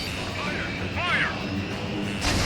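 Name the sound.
missile launch in Ace Combat 7 video game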